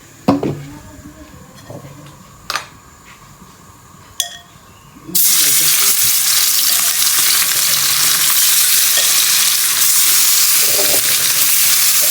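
Fish rubbed with turmeric and salt hits hot oil in a pan, a few sharp clinks first, then a sudden loud, steady sizzle that fills the rest of the stretch.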